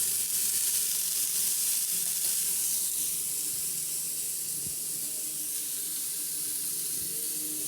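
Onions frying in a pan for an omelet, a constant bright sizzle and hiss close up, with a faint stir or two and no talking.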